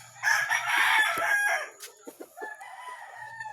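A rooster crows loudly and close by among backyard chickens in Cavite, followed by scattered softer clucks and chicken calls.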